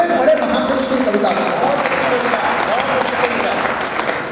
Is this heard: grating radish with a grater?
no